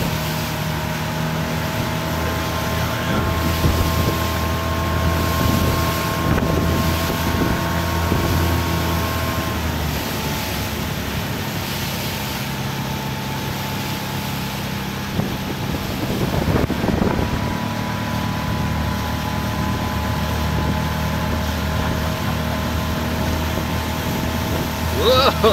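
A speedboat engine runs at full throttle in Need for Speed, a loud, steady mechanical drone with wind rush that dips briefly midway before resuming.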